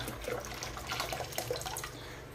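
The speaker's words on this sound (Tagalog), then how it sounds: "So, lalagyan natin ng mainit na tubig." Hot water is poured into a pet's water basin, giving a steady close splashing and trickling sound for a couple of seconds. Nobody talks over it.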